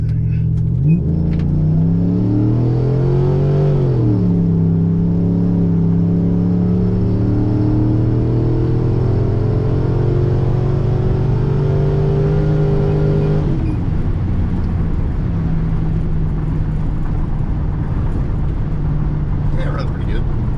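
A 2007 Chevrolet Silverado's 4.8 Gen 4 LS V8 at wide open throttle, engine droning loud and steady as it climbs through a gear change, with a voice talking over it.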